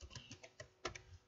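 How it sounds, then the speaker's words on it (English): Quiet, close clicking of a computer keyboard as a web link is typed, a quick irregular run of keystrokes lasting just over a second. "we're going to go up to the top here and actually type in our personal link"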